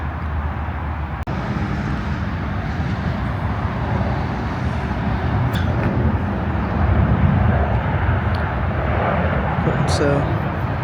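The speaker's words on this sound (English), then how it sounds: "we've been seeing quite a few planes coming in, and spookily enough there's another one just coming in" A steady, loud roar of a jet airplane passing low overhead on approach to land near Libramont-Chevigny, Belgium, broadband rumble holding throughout with a brief click early on.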